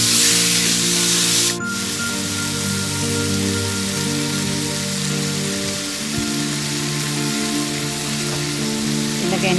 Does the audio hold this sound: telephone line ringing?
no